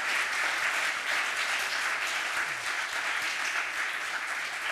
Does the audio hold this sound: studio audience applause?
yes